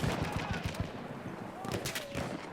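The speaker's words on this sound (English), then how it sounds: "that guy's got a big machine gun" Rapid machine gun bursts in the Battlefield video game, a dense rattling string of shots in short bursts, with a voice talking faintly under the gunfire.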